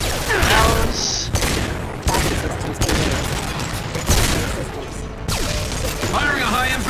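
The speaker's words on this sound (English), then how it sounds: "Firing a high impact shot." Repeated heavy high-impact gunshots and blasts ring out in the sci-fi shooter Mass Effect 2, a dense loud barrage of booming shots and mechanical clatter throughout, with voices speaking among the gunfire.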